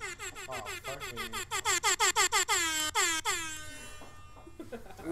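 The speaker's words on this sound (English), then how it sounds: "Use an air horn app." A series of short, loud air horn blasts from a phone app in quick rhythmic succession, then a long sustained blare that fades into scattered laughter and voices.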